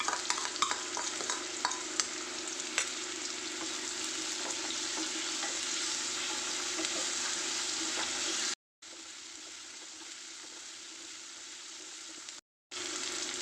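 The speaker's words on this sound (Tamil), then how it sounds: "இந்த டைமில் இஞ்சி பூண்டு பேஸ்ட் ஆட் பண்ணி நல்லா வதக்கிக்கலாம்." Onion and ginger garlic paste sautéing in a pan for salted mutton fry, a loud steady sizzle with frequent spatula stirs and scrapes, broken by two short silent cuts.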